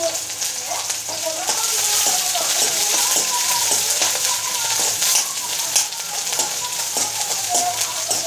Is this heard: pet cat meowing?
no